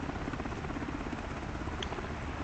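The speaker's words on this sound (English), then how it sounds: "that's the helicopter for the president." HMX-1 presidential helicopter, green with a white top, flying over Quantico Marine Corps Base, giving a steady rotor thump that holds at an even level throughout, with no voices.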